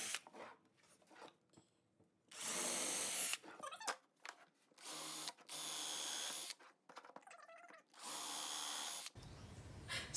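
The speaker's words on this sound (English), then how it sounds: "So Lacey's gonna start with a small drill, and we're gonna work our way up." A power drill fitted with a small bit bores holes in wood, running in several short bursts of whining with quiet gaps between them, close by and with no voices.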